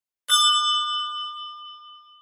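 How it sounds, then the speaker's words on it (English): A single bright bell ding rings out alone and sustains with a long, slowly fading shimmer during a Chicago-themed game show round. "Do we want to just hear the bell?"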